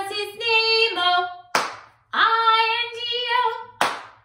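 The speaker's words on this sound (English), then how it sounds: "We're going to clap on it like this." Two sharp hand claps mark the beat of the preschool Bingo song, one midway and one near the end, with sustained sung tones carrying between them.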